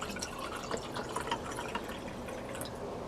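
Liquid pours and trickles into a glass while a wheatgrass drink is mixed, a steady close splashing with scattered drips and no talk.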